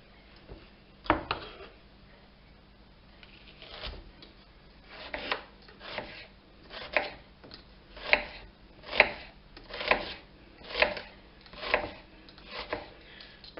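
A knife chops an onion on a cutting board in a steady series of about a dozen close, dull taps spaced roughly a second apart. Each tap is followed by a light scrape, and a faint hum runs underneath.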